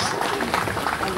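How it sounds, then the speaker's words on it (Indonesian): Applause from the audience at a GMKI 2022 national congress gathering, a dense steady patter of clapping under speech throughout. "kita beri tepuk tangan buat teman-teman kita"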